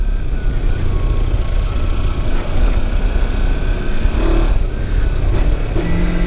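A 2019 Kawasaki Versys 300 X motorcycle ridden off-road through big ruts, its engine droning loudly and steadily close by along with wind and rough-terrain rumble.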